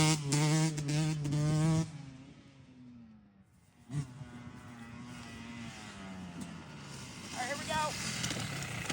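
An LW dirt bike engine buzzes and rises in pitch as the rider sets off, a nasal drone that falls away briefly then climbs again, with a short spoken line at the start.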